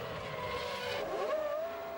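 Formula 1 cars at the 2001 Austrian Grand Prix speed up again after a safety car period, engines screaming and rising in pitch as one car sweeps past close by.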